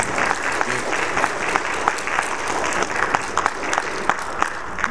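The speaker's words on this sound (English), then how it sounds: "Can you clap your hands?" A church congregation claps along during a sermon, steady overlapping hand claps with a few sharper individual claps standing out, fairly loud and close, with a faint murmur of voices underneath.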